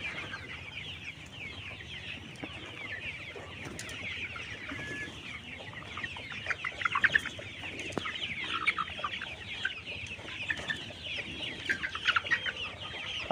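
Many caged pullet hens cluck and murmur continuously in a busy flock, with occasional louder squawks rising above the steady chatter.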